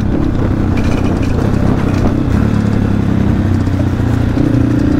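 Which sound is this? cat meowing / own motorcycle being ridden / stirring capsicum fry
own motorcycle being ridden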